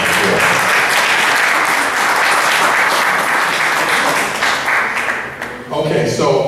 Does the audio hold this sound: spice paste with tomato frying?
no